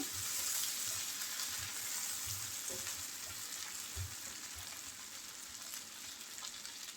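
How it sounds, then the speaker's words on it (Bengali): Tomato and pangas fish frying together in a pan for a mashed fish bhorta, a steady close sizzle with soft bursts of spatter and occasional stirring scrapes. "টমেটো এবং মাছ একসাথে বেশ ভালো করে ভাজা ভাজা করে নিয়েছি"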